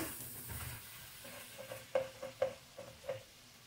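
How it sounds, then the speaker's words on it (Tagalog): Squash and string beans being stirred in a pan with coconut milk, a low sizzle under a handful of distinct spoon scrapes and taps in quick succession. "Kalabasa, sitaw. Haluin natin"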